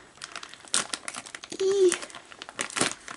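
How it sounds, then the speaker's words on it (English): Scissors cut open a plastic mail bag from a Temu haul, with crinkling and snipping plastic close by, mixed with brief faint voices. "so I don't cut anything except the bag itself."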